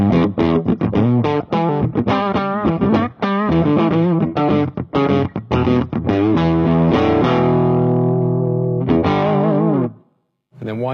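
Distorted electric guitar through a Marshall 1962HW handwired amp on input 2 with a slightly darker tone, loud and close: choppy driven chords and riffs, then a long sustained ringing chord that fades before a brief final strum.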